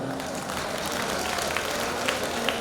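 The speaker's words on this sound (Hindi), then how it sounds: "तालियों से तो लग रहा है कि नहीं, आज तो हम मौज मस्ती करना चाहते हैं।" A crowd at a Jain religious discourse and ritual event applauds steadily, a dense wash of clapping that stays fairly even throughout with a few sharper claps standing out.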